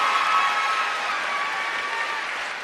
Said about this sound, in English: Just give them both a round of applause.